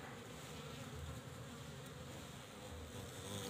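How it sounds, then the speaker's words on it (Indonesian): Faint, steady buzzing of a large bee working flowers for nectar, heard up close, continuous and low over a quiet background. "Bahkan lebah yang besar ini gak mau kalah mengambil nektarnya"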